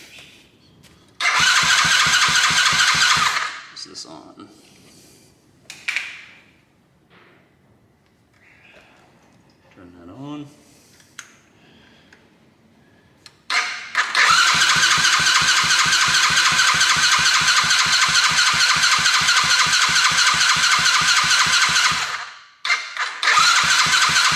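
A Coolster 110cc dirt bike with a newly changed carburetor starts up close by, runs loudly for a couple of seconds, cuts out, then fires again and holds a steady, buzzing idle for about ten seconds before dropping off.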